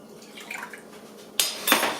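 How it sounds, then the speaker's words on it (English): Lemon juice is poured into a pitcher for lemonade: faint kitchen clinks first, then a sudden bright splash of liquid that runs briefly, pauses and gushes again, close and fairly loud. "Then you pour your lemon juice in,"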